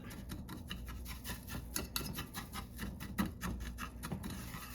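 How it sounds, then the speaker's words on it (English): A whisk scrapes and taps rapidly against a bowl while mixing ingredients for a casserole, a close, busy rhythmic rubbing with no speech over it. "I'm going to take my whisk and mix this up"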